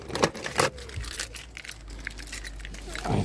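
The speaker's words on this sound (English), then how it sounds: "Conveniently, the keys are in here." Car keys jangle inside a 1993 Volvo 240 station wagon, a few close metallic rattles and clinks over a low steady hum.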